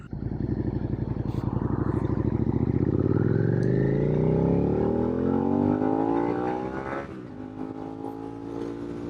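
A Suzuki SV650 motorcycle ridden on the road revs up hard, its engine note climbing steadily to a loud peak, then easing off into a lower running drone, close and alone without talk.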